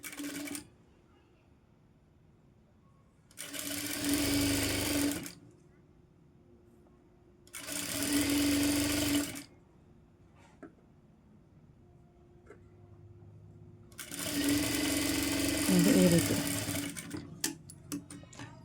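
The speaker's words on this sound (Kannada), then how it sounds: "ಮೊದಲಿಗೆ ಈ ರೀತಿ ಡಬಲ್ ಲೇಯರು ಮಡ್ಚ್ಕೊಂಡು ಸ್ಟಿಚ್ ಮಾಡ್ಕೋಬೇಕು" Sewing machine stitching a folded double layer of sleeve fabric, heard in three separate bursts of running of a few seconds each, with quiet pauses between them.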